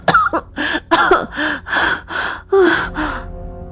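A woman in a dramatized audio story coughs and gasps after being choked, giving a close, loud series of ragged coughs, sharp breaths and strained gasps with brief pauses between them.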